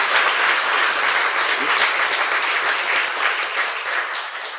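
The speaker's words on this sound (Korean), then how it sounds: "박수 부탁드립니다." A studio audience at a Korean political talk show applauds steadily throughout, a dense, even wash of clapping from many hands that stays loud and sustained without letup.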